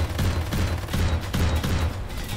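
A turret in the sci-fi shooter Silica fires rapid repeated bursts, a loud clattering volley in quick pulses that continues steadily across the moment.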